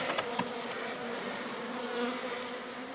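Dark forest bees buzz in a dense, steady drone at an opened hive, close and continuous, with a couple of faint clicks early on.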